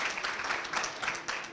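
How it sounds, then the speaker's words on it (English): Applause at a high school all sports booster club athletic banquet, a dense, fairly distant patter of many hands clapping steadily with no talk. "So a nice round of applause for Donnie, the athletic department."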